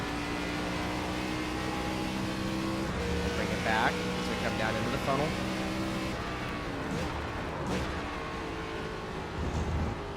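Race car in iRacing, its engine droning and shifting pitch while cornering and accelerating, with brief tire and revving bursts, heard steadily under someone talking.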